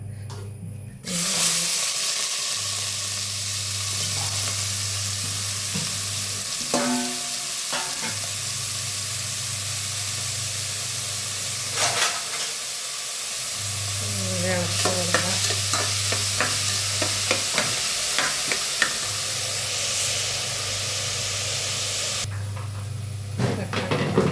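Onion, garlic, ginger and green chili stirred and sizzling in hot oil for a home-style biryani, a steady loud frying hiss with repeated scraping stirs and clinks; a low hum runs underneath with brief gaps.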